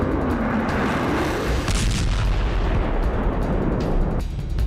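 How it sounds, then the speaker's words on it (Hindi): Missiles and bombs go off during a military exercise, heard as a loud, continuous roar of rumbling blasts and booms, with no talking. "पहले देख लीजिए इस युद्धाभ्यास के दौरान कौन कौन सी मिसाइल और बम को आजमाया गया"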